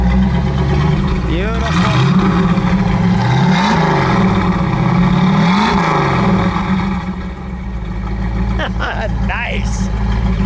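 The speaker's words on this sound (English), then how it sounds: "Exhaust note." A 1968 Ford Mustang Shelby's V8 exhaust revs up and settles repeatedly, loud and close with rising and falling sweeps, while people talk briefly over the engine.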